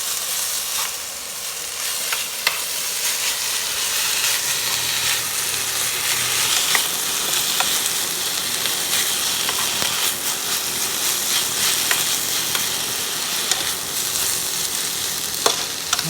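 Grated turnip hash browns fry in a hot pan with a steady, dense sizzle and crackle that holds evenly throughout, with occasional sharper pops and no talking.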